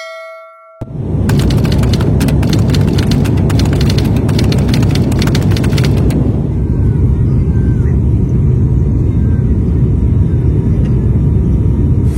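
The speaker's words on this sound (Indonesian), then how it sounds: "Mendarat di Airport Maliko Saleh di Aceh, Loksmawe." An airplane lands at Malikussaleh Airport in Lhokseumawe, Aceh. It starts with a sudden loud roar and rapid rattling clangs, then settles into a steady, powerful engine rush heard from inside the cabin.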